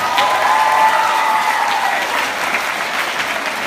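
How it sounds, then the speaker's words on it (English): Audience applause at a school play, an intermediate school stage production: dense, steady clapping from a full house fills the whole stretch at an even, fairly loud level, with no voices on top. "Christine Thorstenstein, she deserves a huge round of applause"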